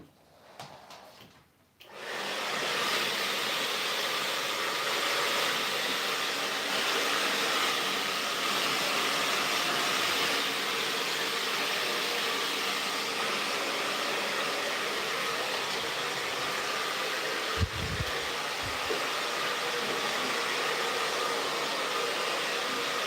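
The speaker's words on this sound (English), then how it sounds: "Just going to quickly use a hairdryer." A pink hairdryer blows in a steady, loud, broadband whoosh that starts after a short pause and runs continuously, with a brief bump partway through.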